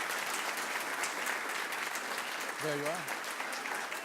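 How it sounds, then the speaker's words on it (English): A room of people at a city council meeting claps steadily for several seconds, the applause even and dense throughout, with one brief spoken phrase near the end. "Let's give them a round of applause."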